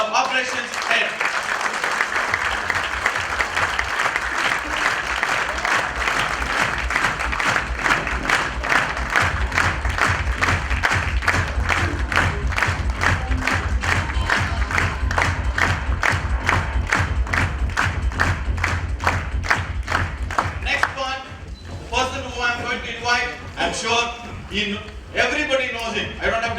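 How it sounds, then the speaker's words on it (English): Sustained applause from a large crowd welcoming an operations head on stage at a corporate event, steady dense clapping that fills the room and then thins into scattered claps and murmuring. "So please put a huge round of applause in welcoming Mr. Ranjit Dayanandan, our operations head."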